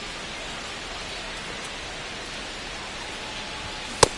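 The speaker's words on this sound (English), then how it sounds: "the field's not going to be able to hold up if the rain gets any worse than this" Steady, even hiss of rain falling on a baseball field in the video game MLB The Show 25, a constant wash with a single sharp click near the end.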